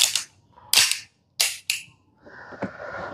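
Several sharp cracks from an airsoft gun, fired one at a time with short pauses, close and distinct, followed by a faint mechanical hum and click.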